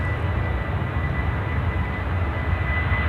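An aircraft engine spools up at Sydney Airport, a steady broad roar holding at moderate distance throughout, no voices.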